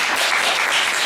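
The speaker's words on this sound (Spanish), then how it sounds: "Un aplauso. Un aplauso." Audience applause at a cine-forum tribute for a film critic, a brief, dense burst of many hands clapping steadily at close range.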